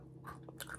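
A bite of crispy scone is chewed close to the mic, giving a few quick crunchy, crackly bites over a quiet background hum.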